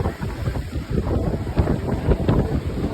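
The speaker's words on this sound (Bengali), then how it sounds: "অনেক বাতাস, প্রচন্ড বাতাস, সমুদ্রের ঢেউগুলি অনেক বড় বড়।" Strong wind roars and buffets the microphone continuously, with a broad rushing noise and the wash of sea waves underneath.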